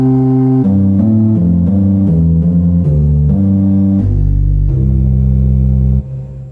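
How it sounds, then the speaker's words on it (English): Hammond XK5 organ playing pedal sub-bass 16 with gedeckt 8, a deep sustained bass line of stepping notes ending on a long held low tone, loud and alone. "The drawbar that's labeled 16, that pulls up a sub-bass 16 in combination with a gedeckt 8."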